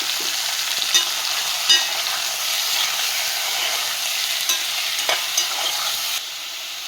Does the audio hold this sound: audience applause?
no